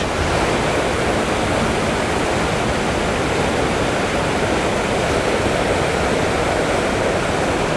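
Rushing water roars steadily and loudly, a dense unbroken wash of noise close by that holds for the whole stretch with no voices.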